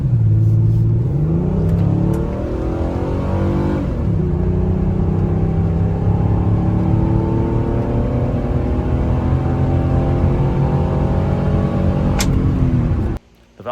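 A Diamond Star Dodge with a 6G72 Mitsubishi engine and freshly replaced quiet exhaust runs steadily, a close, smooth engine drone with rising and falling harmonics as revs shift, continuous until it cuts off near the end.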